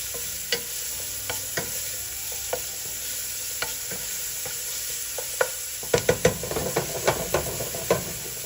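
Ginger, garlic and green onion sizzle in hot olive oil under a constant bright hiss, with light, regular taps of stirring that turn into a quick run of louder scrapes near the end.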